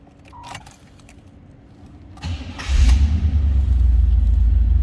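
A 1986 Chevrolet Camaro IROC Z28 being started cold: keys jangle first, then the starter cranks briefly and the engine catches and settles into a steady, loud, low idle rumble close by.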